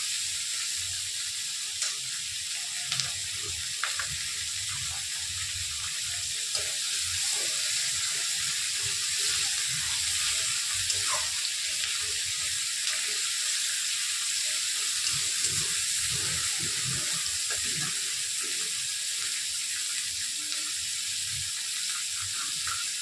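Chilli egg frying in a pan, a steady soft sizzle and hiss that runs continuously, with brief stirring clatters now and then.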